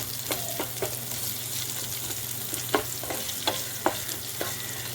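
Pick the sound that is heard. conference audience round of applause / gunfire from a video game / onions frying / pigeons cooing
onions frying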